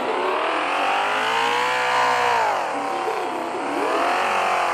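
Several car engines rev and whine together in a Roblox street race, the pitch sweeping up, dipping, and climbing again as they accelerate, with a steady loud mechanical drone and no voices.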